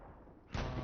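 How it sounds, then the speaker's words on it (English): A single heavy explosion booms behind the action in a competitive tank battle video game, a sudden loud burst that cuts in after a low rumble and sustains briefly. "There was some explosion made from behind over here."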